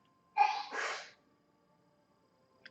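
A single sharp sneeze, close and fairly loud, bursts out in two quick phases, then quiet room tone follows.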